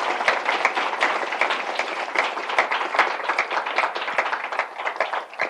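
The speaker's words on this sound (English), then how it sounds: "think perhaps we can just give Pat and Reed a round of applause for those wonderful answers to that." An audience gives a round of applause after panel answers at a public talk, with close, lively, continuous clapping from a moderate crowd at an even level throughout.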